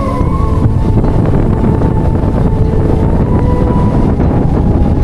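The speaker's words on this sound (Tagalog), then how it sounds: "Lakas ng hangin." Strong wind roars steadily over a boat's engine drone on open water, a loud, constant rush buffeting the microphone with no break.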